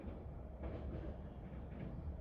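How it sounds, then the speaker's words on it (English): A Mainlander passenger train runs steadily on rails across the flat Canterbury Plains, a continuous low rumble and rolling noise with no clear breaks and no talk. "The train then travels across the flat Canterbury Plains northwards"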